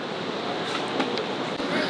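Small creek in Ketchikan flowing steadily, a broad continuous rush of water close by, with faint brief voices and light wind noise.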